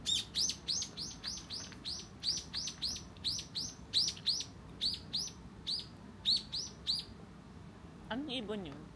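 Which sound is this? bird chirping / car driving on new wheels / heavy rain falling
bird chirping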